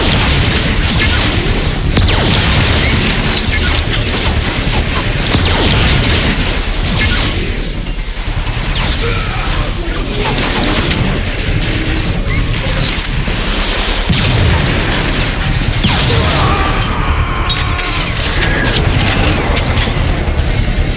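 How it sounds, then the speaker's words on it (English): A grenade explosion amid battle in the Transformers: Fall of Cybertron video game, buried in a dense, continuous wall of loud crashing, booming and gunfire that runs unbroken throughout, with no single blast standing apart. "Grenade flying! Grenade! Take cover!"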